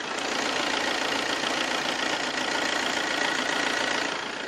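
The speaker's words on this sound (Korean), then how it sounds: "바로 엔진 소리 한번 들려드릴게요." An Audi A6 engine idles steadily, a continuous even rumble with no revving and no voices.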